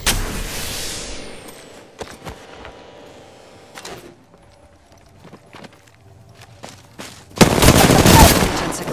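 Gunfire in Apex Legends, with scattered sharp shots and clattering impacts over a quiet backdrop, ending in a loud sustained burst of noisy blasts.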